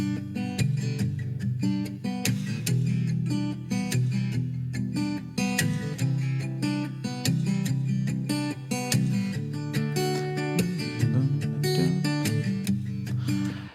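A recurring guitar theme for a song plays continuously, a dense, steady layered passage with strong low end and bright repeated notes throughout, no voices.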